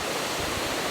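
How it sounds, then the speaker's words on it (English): Waterfall in Scotland in winter, water pouring down a hillside with a steady, dense roar of rushing white water, close and loud throughout with no voices. "there's an awesome force in that water coming down that hill"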